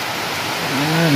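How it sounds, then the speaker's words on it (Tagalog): Strong wind rushes in a steady, loud, broadband roar outdoors among coconut palms, with a low droning tone rising near the end. "Lakas ng hangin po mga Kalinga po."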